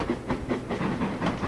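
A train in a railroad game rumbles along its tracks at speed, a steady low roll with a regular pulsing beat of wheels and a faint hiss on top.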